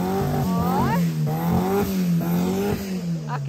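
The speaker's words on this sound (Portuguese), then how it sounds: "tão acelerando ali, gente" Volkswagen Beetles revving their engines at a car meet, a loud, close buzzing engine note that repeatedly climbs and drops in pitch over a few seconds.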